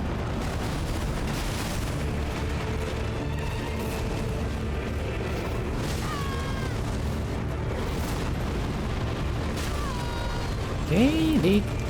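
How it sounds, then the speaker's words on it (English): A heavy, sustained boom of an explosion rumbles in the video game Elden Ring. It blends with dense game audio and a brief creature cry near the end. "Okay, the explosion."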